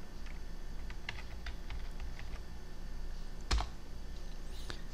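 Fingers type on a computer keyboard in a quiet room, a brief run of soft clicking keystrokes followed by one louder tap, set against a low steady hum and with no speech.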